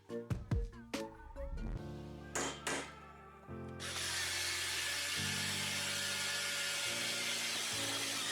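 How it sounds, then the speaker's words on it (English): A power drill bores holes through the metal rails of a ladder stand, a few short bursts followed by a long, steady, fairly quiet whine. "I suggest you drill through one side at a time."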